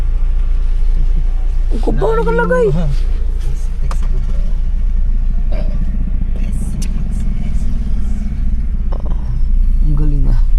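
Tricycles and other motor traffic rumble past on a Philippine provincial road near Rizal, a loud, steady engine drone throughout, with people talking over it.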